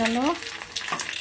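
Sago masala papads sizzle and crackle as they fry in hot oil, a steady close hiss with a brief whistling tone at the start and no talking.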